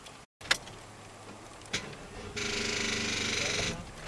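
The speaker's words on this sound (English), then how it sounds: "Okay, the car's not starting." A car engine cranks in a steady whirring grind for over a second without catching, after a few sharp clicks and knocks; the failure to start sounds like an alternator fault.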